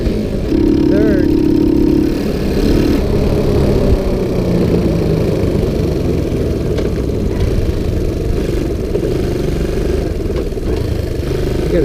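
A Sunl 110cc ATV engine runs in third gear with a clutch that may be slipping, a close, steady, rough drone that continues under talk throughout.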